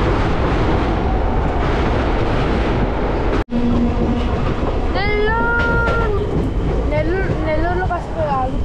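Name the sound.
passenger train running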